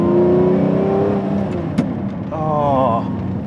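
A 2003 Lamborghini Murciélago V12 engine hums and revs in a deep, steady tone, rising briefly into a wavering higher pitch, heard close with a speaking voice over it.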